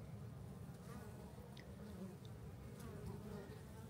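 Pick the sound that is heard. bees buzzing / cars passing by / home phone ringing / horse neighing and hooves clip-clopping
bees buzzing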